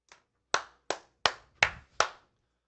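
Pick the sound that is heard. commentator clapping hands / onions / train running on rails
commentator clapping hands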